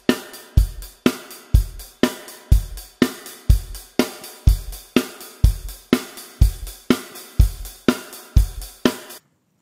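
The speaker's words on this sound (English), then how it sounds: "So here's that beat at about 123 beats per minute." A drum kit plays a steady rock beat at about 123 bpm, with punchy bass drum hits, snare backbeats and constant cymbal wash, close and loud, no voices.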